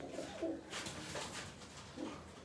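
Small pigeon cooing softly in low, rounded calls, a few separate coos over a faint background hiss.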